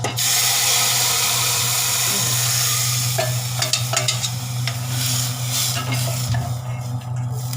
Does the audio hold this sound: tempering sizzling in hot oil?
yes